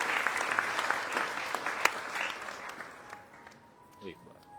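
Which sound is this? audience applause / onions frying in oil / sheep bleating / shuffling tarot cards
audience applause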